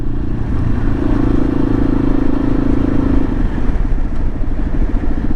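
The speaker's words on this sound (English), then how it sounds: "this is a 2020 Yamaha XT250" A 2020 Yamaha XT250 motorcycle engine runs close by, a loud, steady mid-pitched thrum with a rapid pulsing beat throughout, heard alone without talk.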